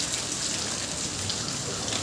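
Steady, dense rain falls on a flooded road in a market town, a constant hissing wash of drops on water and surfaces with no pauses, close and fairly loud throughout.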